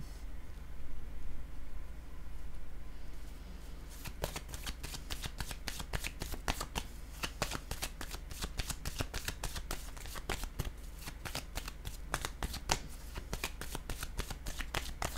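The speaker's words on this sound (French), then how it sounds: "Je vais déposer une autre carte par curiosité." Tarot cards handled and shuffled close up, a quiet rustle giving way to a rapid run of crisp flicking riffles, with no voices.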